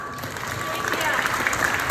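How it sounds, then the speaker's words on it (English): Food bank volunteers give each other a round of applause, many hands clapping together and swelling slightly louder toward the end, with murmured voices from the group mixed underneath. "I want you all to give each other a round of applause."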